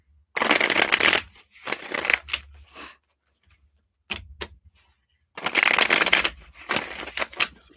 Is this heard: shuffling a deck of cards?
yes